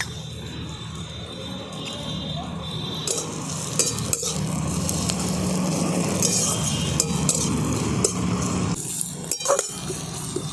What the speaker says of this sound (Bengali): প্রথমে পেঁয়াজ আর গাজরটাকে একটু ভালো করে ভাজা ভাজা করে নেব